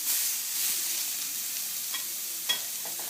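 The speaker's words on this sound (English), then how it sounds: "I'm just going to press down on the edges of the steak just to make sure the other side gets nice" A steak sizzling steadily in a hot pan, loud and close, with a couple of faint scraping taps as its edges are pressed down; no voices.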